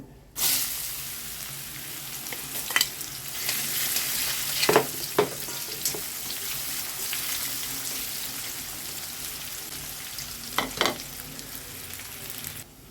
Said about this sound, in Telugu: క్యారెట్ ఫ్రై అయిపోతుందండి